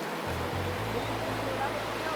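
Continuous rushing water of a river flows steadily nearby at Changchun Shrine, Taiwan, a broad even wash with a faint low hum beneath it.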